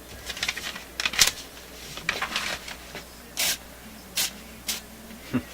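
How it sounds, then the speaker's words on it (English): Several short hissing bursts from an aerosol can held upside down, spraying cold propellant, close and sharp, separated by brief pauses, with some clicking and handling noise in between. "if I just hold this can upside down, it pretty much shoots out cold propellant only"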